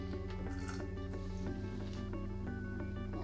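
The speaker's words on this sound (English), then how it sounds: "So I'm adding the same amount of water as I have starter into this jar." Water is poured into a jar of sourdough starter, making a close, wet, gurgling fill broken by quick squishy drips, with no talking.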